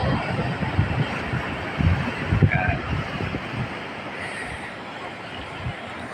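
Strong sea waves under overcast stormy weather rumble and wash continuously in a low, roaring surge with wind noise on the microphone, loudest in the first half and then easing.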